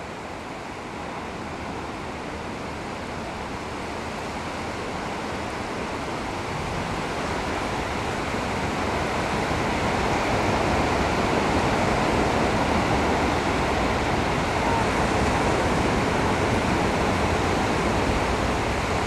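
A simulated flash flood on the Universal Studios tour in California sends rushing water roaring steadily, like a broad waterfall or surf, and the roar grows gradually louder as the water rises.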